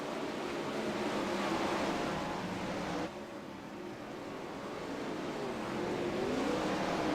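410 sprint cars roar around a dirt racetrack in a loud, continuous engine drone, with pitch swelling as the pack passes and a brief dip midway before the noise builds again.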